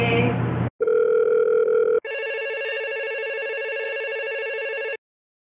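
A telephone rings with a loud electronic tone that starts, breaks off and then holds steadily for several seconds, close and clear with no talk over it.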